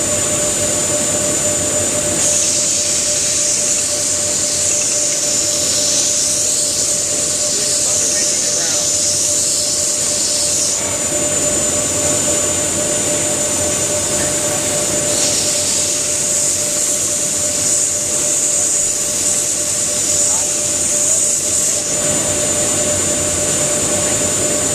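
A belt sander shaping a wooden cheese knife holder gives a loud continuous whirring roar with a high steady tone, the pitch and grinding texture shifting slightly as the wood is pressed against the belt.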